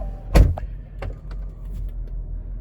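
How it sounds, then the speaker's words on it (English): A Range Rover Vogue SE door swings shut with one solid, close thump, followed by a few faint clicks and soft mechanical noises inside the quiet cabin. "I'll just close the door."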